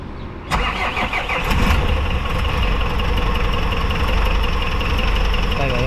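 A Hyundai H-100 van that stalled in floodwater cranks and catches abruptly, then settles into a loud, steady idle with a rough mechanical rattle that runs on to the end.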